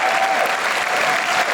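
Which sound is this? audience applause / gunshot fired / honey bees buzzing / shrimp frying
audience applause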